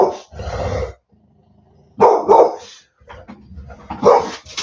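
A dog barking indoors in loud, close bursts: a pair of barks, a pause with a low whine, then further barks and yips.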